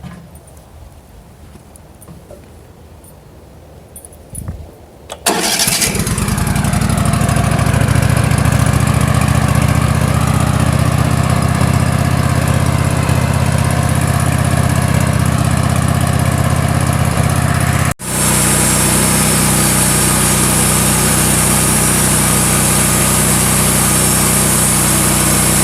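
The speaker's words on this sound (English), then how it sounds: "we'll get the tractor started" Tractor engine at a sawmill cranks briefly, catches and settles into a loud steady idle close by, with a sudden short dip partway through before it keeps running evenly.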